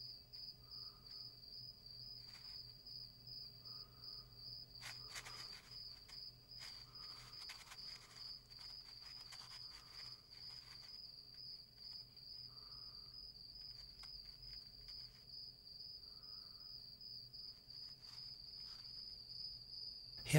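A cricket chirps in a steady, high, continuous trill, joined by soft scattered ticks and rustles, quiet and close with no voices.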